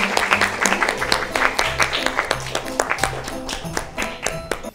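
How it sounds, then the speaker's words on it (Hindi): An audience at a Christmas gift presentation gives a round of applause. Scattered claps ring out over a tonal musical background in a loose, uneven rhythm, with nobody talking. "जी आपकी भरपूर तालियों।"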